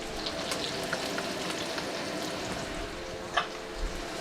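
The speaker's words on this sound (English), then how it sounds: "we're letting this bloom in our oil for about maybe 20 seconds" Ginger, garlic and green onion whites fry in hot oil in a wok, giving a steady close sizzle with a couple of brief louder pops or stirs near the end and no talking.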